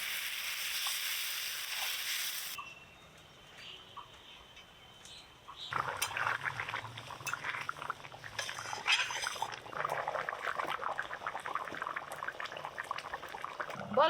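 Water is poured from a rinsed bowl into a pan of paneer curry, a splashing liquid rush after a quieter stretch, followed by bubbling and light clinks of utensils with no voices.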